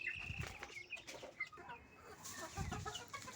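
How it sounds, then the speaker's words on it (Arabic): Chickens cluck softly outdoors in the sun, with scattered, irregular clucks and short calls at moderate distance, fairly faint overall. "دي الطيور بقى انا طلعتها بره في الشمس كده"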